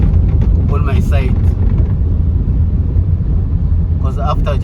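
Heavy trucks rumble past on a dusty stretch of the Bulawayo–Victoria Falls road under rehabilitation, a steady loud low engine and road roar lasting throughout while voices are faintly present.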